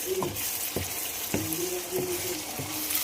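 Pasta sauce loaded with tomatoes cooks in a pan, a steady soft sizzle and bubbling broken by several light spoon or utensil knocks against the pan at irregular intervals.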